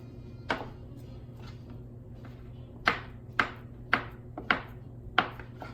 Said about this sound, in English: I'm gonna finish cutting this butter up into cubes